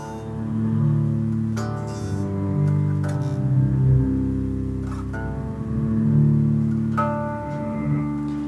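Digitech Polara reverb pedal in reverse mode on guitar, sustained harmonic notes swelling up and changing every second or so, washed in a steady reverb tail, alone with no talking.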